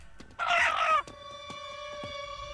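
A giant chicken in a video game lets out one loud, close, strained crow lasting about half a second, then a sustained electronic tone and a few faint clucks and taps follow.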